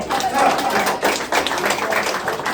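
A group of children claps together in a motivational class, a dense, continuous patter of hands that is fairly loud and close, with voices mixed in underneath.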